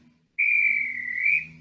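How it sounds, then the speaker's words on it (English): One sustained train whistle sounds in the Roblox SCR train game, a steady, clear tone lasting over a second after a brief quiet start. "Now we're going to blow the whistle"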